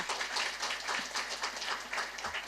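Audience applause at a Thai company event honouring executives, a steady patter of many hands clapping at a moderate distance, even and continuous.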